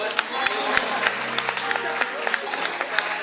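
Audience applause at a fashion show in Saint-Denis, a steady wash of many hands clapping with crowd murmur and a few sharper nearby claps throughout.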